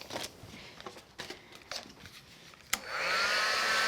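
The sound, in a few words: craft heat tool heating embossing powder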